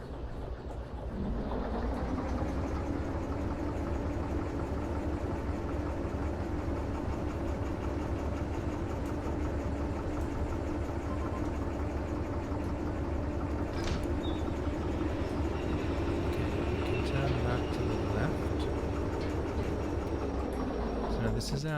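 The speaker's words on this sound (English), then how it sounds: "This is our train that will carry things over to G." Steady rumbling train running in the video game Derail Valley, a continuous low mechanical drone with faint clanks, heard alone without talk.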